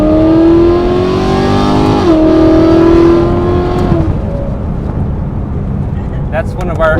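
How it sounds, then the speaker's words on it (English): A modified BMW E93 M3 engine drops through a downshift, its loud tone stepping down in pitch then settling before fading to a lower drone, with talk heard alongside. "The downshifts, how it sounds, just amazing."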